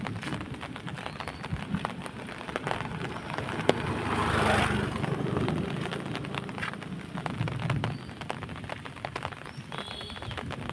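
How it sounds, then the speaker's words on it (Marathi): Heavy monsoon rain in the Konkan region hisses steadily on surfaces, swelling briefly in the middle before easing back to a constant downpour, with no one speaking. "इकडे पाऊस किती पडतोय"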